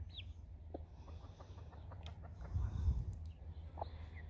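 Baby chicks out in a backyard give faint, scattered high peeps and chirps over a steady low outdoor rumble, with a brief louder swell of background noise partway through.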